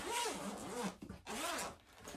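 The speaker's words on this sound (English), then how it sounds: "So there is a zipper here. Just open it." A zipper on the case of a Zakharov bayan accordion is pulled open indoors, in two close, scratchy runs with a brief pause between them and no talking.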